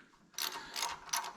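A socket wrench ratchets on the carburetor studs of a Husqvarna snow blower in three quick bursts of close, quiet mechanical clicking, with no voices.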